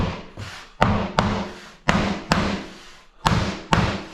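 A hammer strikes a wooden block to tap VJ board into place, giving seven sharp, loud knocks at an irregular pace, each followed by a short resonant ring that fades before the next blow.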